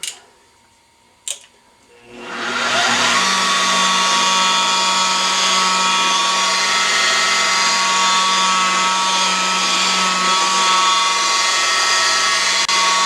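A polishing machine spins a pad across a glass repair, starting after a brief quiet lead-in with a rising whine that settles into a steady, loud, close hum with a constant tonal drone, no talking.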